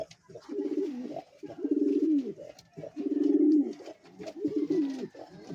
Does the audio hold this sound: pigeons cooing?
yes